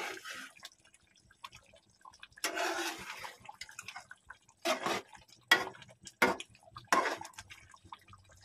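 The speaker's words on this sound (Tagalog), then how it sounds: "Lagyan ko siya ng konting tubig." Water is poured into chicken curry in a pan, giving several separate bursts of splashing and sizzling pouring separated by quiet gaps, close and moderately loud.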